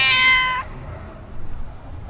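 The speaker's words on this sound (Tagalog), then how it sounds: "Pusa." A stray cat on a street gives one loud, close meow lasting about half a second, then goes quiet against low background noise.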